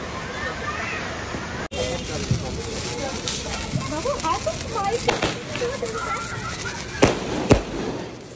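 Diwali firecrackers burst outdoors in a festive night setting, sharp cracks and pops scattered over a steady crackling hiss, with people chattering in the background.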